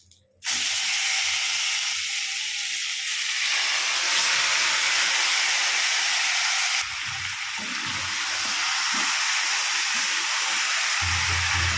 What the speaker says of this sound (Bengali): এক এক করে মাংসটা দিয়ে দিচ্ছি।